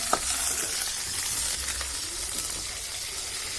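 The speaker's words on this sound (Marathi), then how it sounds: "थोड्या आपण कांदे शिजू देऊया।" Onions fry in a pan for methi bhaji cooked over a chulha, giving a steady, close sizzle and crackle with a little stirring and no talking.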